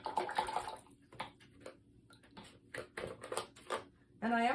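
A paintbrush is swished and tapped in a cup of clean rinse water during a watercolor painting session, with faint sloshes and light clinks and a person talking at the start and end.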